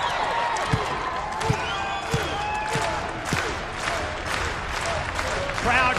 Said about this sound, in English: Crowd here in Scotland firmly showing their support for ODB.